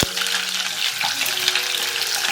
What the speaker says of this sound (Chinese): 小火热油，把洋葱撒下。